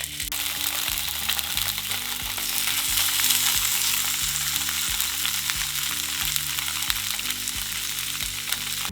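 Pieces of tofu frying in neutral oil in a pan, a dense continuous sizzle and crackle held at an even level throughout, close up with a low steady hum beneath and no voices.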